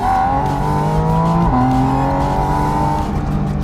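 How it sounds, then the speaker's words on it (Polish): A loud Porsche 718 Spyder RS flat-six boxer engine holds a steady, throaty drone with smooth rising tone and a brief dip midway, close and continuous with no talk. "to stado koni, które pięknie i prawdziwie brzmi, pochodzi z sześciocylindrowego silnika typu Boxer"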